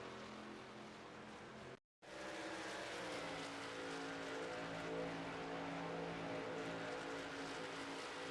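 Race cars in an iRacing pack at Talladega roar with a steady, loud engine drone, broken by a brief cut to silence before the sustained roar returns.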